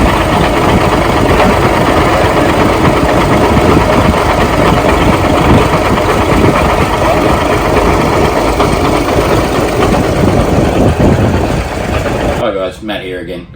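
A truck engine idles steadily and loudly during a pre-start check, a constant low rumble with mechanical chatter that cuts out abruptly near the end.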